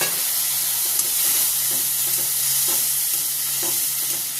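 Soaked cumin and coriander water is poured into a hot pan of gravy masala, bringing a steady, close sizzle and hiss with faint stirring clicks and no talking.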